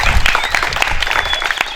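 A crowd gathered at a cow shelter event claps for about three dozen participants, a brief, lively burst of applause close by with sharp individual claps standing out.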